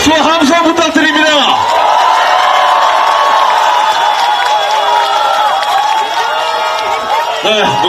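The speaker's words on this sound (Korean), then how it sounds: "박수와 함성 부탁드립니다." A large rally crowd in Busan at a Lee Jae-myung campaign event roars with sustained loud cheering, shouting and whoops, voices blending into a dense, continuous wall of noise from start to finish.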